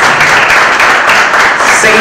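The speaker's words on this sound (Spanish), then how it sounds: "el aplauso para Maris" Steady applause from a crowd at a fifteenth birthday celebration, dense clapping filling the space evenly for the whole stretch, loud and close.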